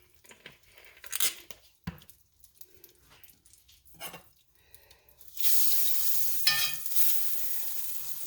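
Butter and a little oil sizzle in a pan at medium heat, a faint crackle rising into a steady, louder hiss for the last few seconds, with a few scattered clinks and knocks before it.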